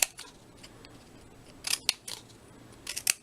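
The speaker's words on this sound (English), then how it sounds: "these scissors are great" Scissors snip through paper for a scrapbook page, several sharp, close cuts in irregular clusters with quiet pauses between them.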